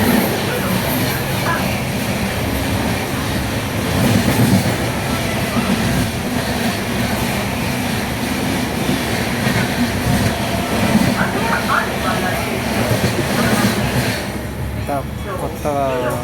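The new 16597 Alipurduar Amrit Bharat Express, running from Bengaluru to Alipurduar, rumbles along steadily with a loud, continuous roar and rattling wheel noise, with faint chatter mixed in.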